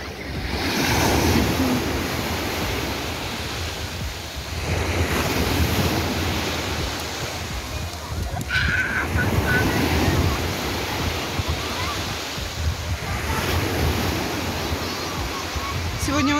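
Strong sea waves crash repeatedly onto Amadores beach in Gran Canaria on a cloudy, windy day, a loud continuous roar of surf with wind buffeting the microphone.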